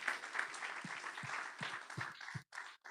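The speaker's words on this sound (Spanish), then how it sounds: "Den un aplauso" A church congregation applauds faintly and from a distance, a soft steady patter of clapping lasting a few seconds with a few sharper low thumps, then breaking off near the end.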